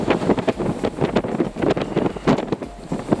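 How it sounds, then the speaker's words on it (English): Heavy wind buffets the microphone in continuous low rumbling gusts, rising and falling throughout with no other clear sound, outdoors by woods in Michigan. "It's so windy. I know that's going to affect the quality of this video"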